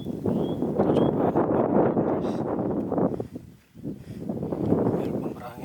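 Strong gusty wind on the savanna trail of Mount Sindoro via Kledung buffets the microphone in a continuous rough roar, briefly dropping near the end before surging back.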